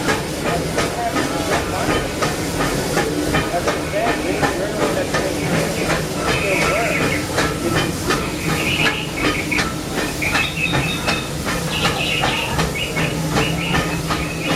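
Steady hiss of steam from a Disneyland Railroad steam locomotive, close and continuous with rail clatter and bright bursts, while people talk nearby throughout.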